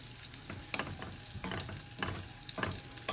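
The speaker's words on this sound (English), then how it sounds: "I'm going to stir it around" Chicken piccata sauce is stirred around a hot pan, with soft scraping strokes recurring roughly every half second over a steady low sizzle. No one speaks.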